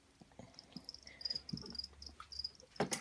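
Crickets in an indoor terrarium chirping in faint, irregular bursts, quiet and close, with small rustles and no talk.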